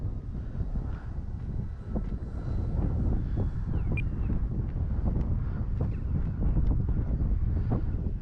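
Strong outdoor wind buffets the microphone throughout a high-wind flight of an Arrows RC Tecnam model plane, a steady loud low rumble with gusty fluctuations and faint engine hum beneath.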